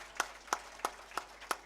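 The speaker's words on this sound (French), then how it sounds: "je voudrais qu'on l'applaudisse vivement" Five sharp, evenly spaced claps about a third of a second apart, faint and isolated, at a police station inauguration ceremony.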